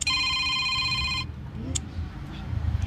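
A telephone rings with a loud, bright electronic trill for just over a second, then stops, leaving quiet room tone with faint movement and a brief click.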